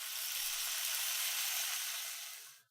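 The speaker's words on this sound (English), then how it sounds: "then finally is the bacon sizzling" Bacon sizzling, EQ'd to strip the low end, as a steady bright hiss and crackle layer for a magic spell effect, soft and continuous before fading out at the end.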